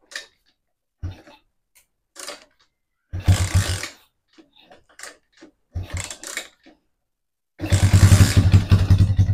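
A Honda TMX 125 motorcycle engine running unevenly, with short sputtering bursts that die out between pauses, then a longer louder run near the end, heard up close without speech.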